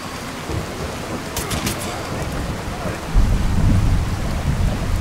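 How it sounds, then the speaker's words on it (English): Rain pours steadily in a Fallout 4 thunderstorm from a weather mod, a dense hiss with a brief crackle before heavy thunder rolls in loudly and keeps rumbling to the end. "Okay, this storm's pretty intense."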